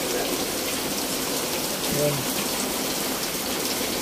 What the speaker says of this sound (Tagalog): walang tigil mula kagabi ang ulan hanggang magdamag